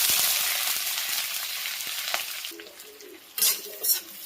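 Onions, green chillies and curry leaves fry in hot oil with a loud hiss that fades, then spatula scrapes and two sharp bursts of sizzle as the pan is stirred, close and without talk.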